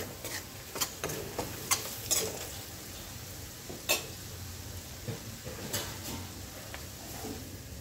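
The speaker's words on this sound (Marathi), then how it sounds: "एकदा परतून घेते मीठ टाकल्यावर" Chivali greens sautéed with salt in a pan, with a soft background sizzle under repeated light scraping and clinking of a utensil against the pan, irregular and fairly quiet, no talking.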